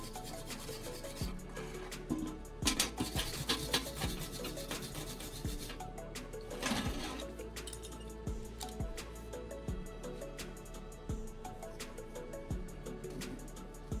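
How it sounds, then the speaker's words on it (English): A wire brush scrubs welding slag off a freshly welded steel joint in a small fabrication shop, a steady run of raspy back-and-forth strokes close by with short sharp scrapes, no voices. "After welding, I quickly clean the slag with a wire brush to reveal the strong, clean joint."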